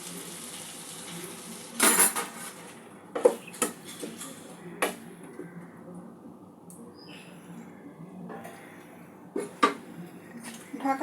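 A ridge gourd and lentil curry gets stirred in a metal pot, with sharp intermittent clinks and scrapes of the utensil against the pan and quieter shuffling between them as water goes in.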